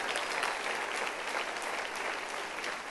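Dense, continuous applause from a congregation at a church service, a steady even clapping texture throughout, fairly faint and without voices on top.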